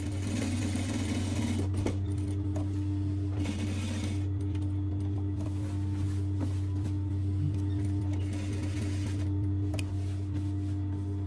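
A sewing machine stitches a strip onto a kandura dress with a continuous, loud mechanical whir and hum, broken by a few brief clicks and pauses in the motor's rhythm.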